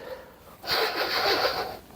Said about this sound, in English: let me just sniff it